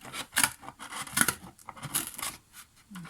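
Scissors cut through thick cardboard in short crisp snips, about five quick cuts in a loose rhythm, close and fairly quiet with no talk over them.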